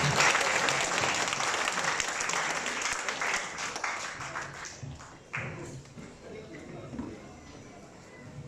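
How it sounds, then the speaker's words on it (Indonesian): A crowd at a PDI Perjuangan party event gives a loud, dense round of applause that slowly thins out, with a voice speaking over it toward the end. "Kita beri aplaus yang meriah"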